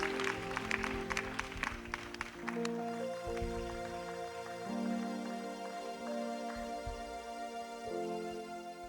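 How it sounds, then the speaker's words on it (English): A church congregation claps hands in a quick, rhythmic beat at the start, and the claps soon fade under sustained musical tones that carry on to the end. "Clap your hands and shout unto God"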